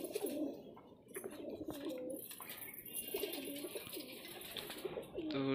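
Repeated soft, throaty pigeon coos rolling on in a steady rhythm, several birds overlapping at close range with faint chirps behind.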